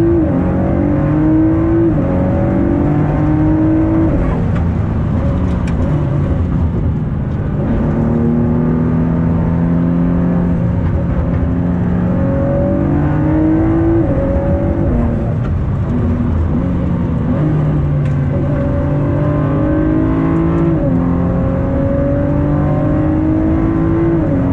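A Ford GT sports car's exhaust drones loudly from inside the cabin while driving, with engine pitch rising and falling through acceleration and gear changes, steady and close for the whole stretch.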